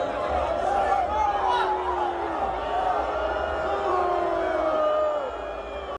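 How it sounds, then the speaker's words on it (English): A large crowd at the Rolling Loud concert booing and jeering, a continuous loud wall of voices with drawn-out hostile cries rising and falling for several seconds. "Really bad booing, too. Not a normal boo."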